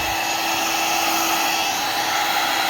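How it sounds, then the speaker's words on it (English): A heat gun blows hard and close on naan dough, a loud continuous whooshing roar with a thin steady whine and no pauses. "Now all I'm going to do, got my heat gun."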